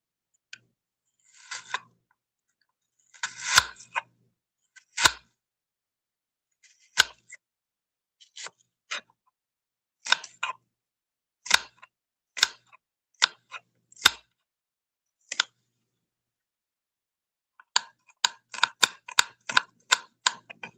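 A knife slicing half a red onion very thin on a cutting board, a long series of crisp isolated chops, some single and some in quick rapid runs, close and clear against near silence.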